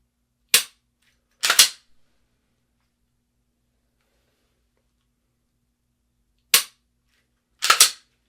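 Four loud, close pistol gunshots at a shooting range, fired in two pairs several seconds apart, each a sharp crack with a brief tail.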